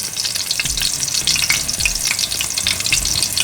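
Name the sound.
salmon pan-frying in hot oil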